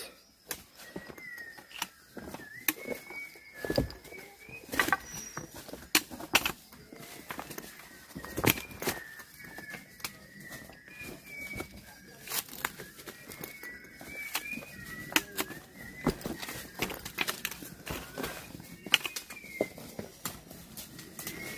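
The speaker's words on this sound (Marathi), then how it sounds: "पक्ष्यांचा सुमधुर आवाज." Birds chirp and call in scattered bursts at dawn in a forest on the Madhe Ghat to Upandya Ghat trek, against a quiet outdoor background, with occasional sharp knocks and rustles; no one speaks.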